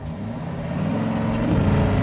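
A 1960 Chevy Bel Air restomod with an LT1 engine drives along, its low engine rumble and road noise holding steady and swelling slightly louder as it is pushed harder.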